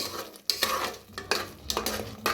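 Masala being roasted for chicken in a pan, with a spatula scraping and stirring in several quick bursts over a soft sizzle, heard close up.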